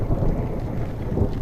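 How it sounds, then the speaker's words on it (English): Thunder rumbles during a storm at sea, a low dense continuous roar lasting about a second and a half, heavy and muffled with wind-like texture and no speech. "I hear thunder, but I guess thunder is okay as long as it's not lightning."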